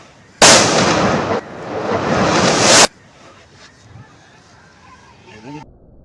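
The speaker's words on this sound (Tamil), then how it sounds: "இப்போ வந்து நம்ம பெரிய லக்ஷ்மி வெடிக்கலாம்." A large Lakshmi firecracker bursts during Diwali celebrations with a loud, sustained crackling roar lasting about two and a half seconds, briefly dipping midway. Faint background noise and distant sounds follow.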